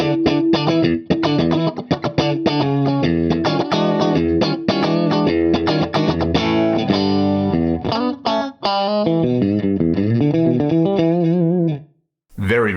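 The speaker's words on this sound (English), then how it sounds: "the Dynamicomp, you just crank the compression up and it kind of does that MXR Dynamicomp thing" Heavily compressed electric guitar played through an Axe-Fx III Dynamicomp with the compression cranked, giving a squishy, even tone. Dense strummed chords and picked notes ring loud and close with a long sustained tail, then stop abruptly near the end.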